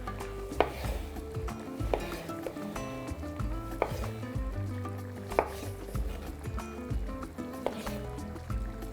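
A knife cuts cherry tomatoes into quarters on a board for a beef tenderloin sauce. About five sharp, evenly spaced chops sound close, under steady background music.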